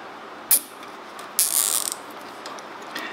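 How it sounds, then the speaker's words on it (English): A zip tie is ratcheted tight on a shifter kart, giving short, close ratcheting clicks: one quick burst, then a longer rapid zip of clicks, and a faint tick at the end. "I'll put a tie wrap around it, like so, if it'll cooperate"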